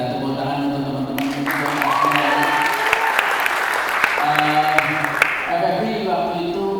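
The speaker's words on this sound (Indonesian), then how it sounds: "Jadi kita tepuk tangan untuk teman-teman" Steady applause from the audience at a film festival press conference rolls on for several seconds, with speech heard over the clapping at the start and the end.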